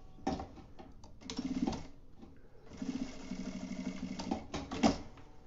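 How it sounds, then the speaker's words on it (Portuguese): A sewing machine stitches a securing seam on fabric for a vaccination card cover, with close, rapid mechanical whirring in two main runs separated by short pauses and clicks. "E aí eu vou passar uma costurinha aqui de segurança."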